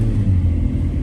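A Ferrari with a gated manual shifter gives a deep, loud, steady engine rumble from inside the cabin, heard for a brief second with no talk.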